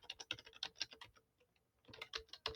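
Typing on a computer keyboard: quick clusters of sharp key clicks, a short pause, then another burst of typing, close and fairly quiet, with no talk.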